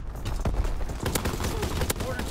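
A Bren light machine gun fires in Call of Duty WWII: dense, loud bursts of rapid automatic gunfire with sharp individual cracks, with a player's voice talking over the shooting.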